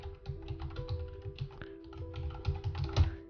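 Brisk typing on a computer keyboard, a steady run of light, close key clicks with short pauses, as an email address is entered.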